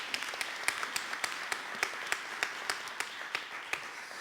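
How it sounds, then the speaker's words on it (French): Audience at a Quebec panel discussion on entrepreneurship and biodiversity gives the panelists a round of applause: thin, scattered clapping with sharp individual claps standing out, fairly quiet and steady throughout. "Je vous propose déjà une bonne main d'applaudissements pour nos panélistes"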